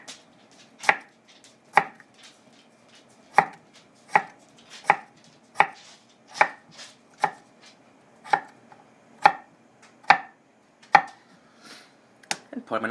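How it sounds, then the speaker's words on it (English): Sharp, regular knife strokes against a cutting board, close and crisp, thinly slicing halved potatoes, each slice landing in a steady rhythm with short pauses. "Slice your potatoes in half and cut them in very thin slices."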